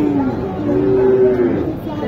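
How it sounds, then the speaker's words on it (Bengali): Cattle at a village livestock market in Naogaon, Bangladesh: a cow gives two loud, drawn-out moos close by, with faint crowd chatter in the background. "ফারুক ভাই আজকে একটা গরু নেন।"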